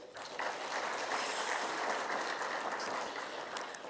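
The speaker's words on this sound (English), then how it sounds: "With a round of applause" A conference audience gives a round of applause for a panel at an opening session in Kigali, steady, even clapping from many hands, heard at a moderate distance throughout.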